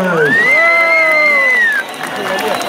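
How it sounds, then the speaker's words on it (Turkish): Cheering crowd at an outdoor concert, a loud whooping shout rising over the crowd noise, then lower-level cheering and applause as it fades. "bir alkış!"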